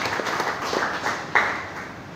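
A church congregation claps steadily for Jesus, a soft, diffuse wash of many hands in a reverberant hall, fairly quiet and continuous with a few sharper claps.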